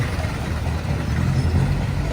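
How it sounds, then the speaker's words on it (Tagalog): A jeepney pulls up on a city street, its engine giving a loud, continuous low rumble close by with steady road and traffic noise around it and no one speaking. "Ito na yung jeep."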